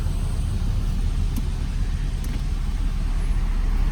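Car traffic on a flooded road during rain in Dubai, a steady low rumble of engines and tyres through water, continuous and fairly loud with no talk.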